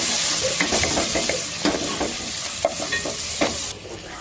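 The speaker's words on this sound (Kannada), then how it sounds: "ಇದಕ್ಕೆ ಸ್ವಲ್ಪ ಅರಿಶಿನ ಹಾಕಿ ಮಿಕ್ಸ್ ಮಾಡಿ" A spoon scrapes and stirs through onions and small mutton bones frying with turmeric for mutton kaima sambar, giving close, crackling sizzle with repeated short scraping strokes and no talk.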